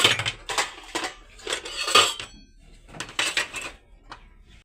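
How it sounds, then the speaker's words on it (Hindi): Washed dishes, glasses and small cups clink and clatter as they are stacked into a kitchen basket and glass stand, in close, irregular bursts of ringing metal and ceramic knocks. "अब रखते हैं हम इनको टोकरी में सेट करके। तो यहाँ पे रखती हूँ सेट करके, और गिलास रखेंगे अपनी गिलास वाले स्टैंड में।"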